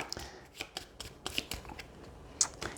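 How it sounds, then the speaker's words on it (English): Board game cards for Terraforming Mars are shuffled by hand, producing a quick run of soft papery riffles and slaps at an irregular rhythm, close and fairly quiet with no talking. "Let's shuffle these up."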